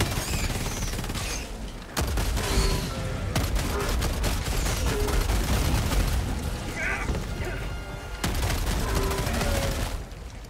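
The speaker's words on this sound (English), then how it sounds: "Firing orbital strike." Orbital strike blasts pound in Helldivers 2, heavy booms and rolling fusillade-like bursts that come in waves over about ten seconds, loud and close, with a brief voice partway through.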